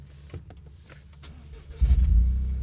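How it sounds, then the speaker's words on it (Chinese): A Toyota GR Corolla's three-cylinder engine cranks and catches about halfway through, settling into a deep, close rumbling idle after a brief rev. "现在车子启动了，这个3缸引擎就睡醒了"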